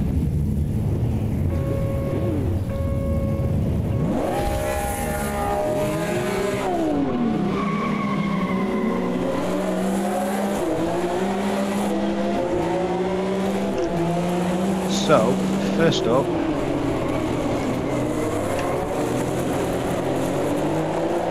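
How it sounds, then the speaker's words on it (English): A Porsche 908 race car, played as the Exela mod in Automobilista 2, screams through gear changes with rising and falling engine pitch and a burst of tyre squeal, loud and steady, while someone speaks briefly at the start. "So we've got the Porsche 908 by Exela."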